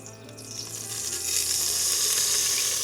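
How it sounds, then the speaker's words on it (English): Olive oil poured into a hot pot holding beads of water sets off a close, bright sizzle and crackle that grows louder and steadier after the first second. "That's just the water you're hearing in there once the oil hits."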